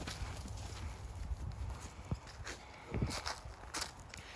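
Horse hooves clip-clopping on the ground at a trot during an Oldenburg horse inspection, a steady run of soft thuds with a few sharper knocks against outdoor background noise.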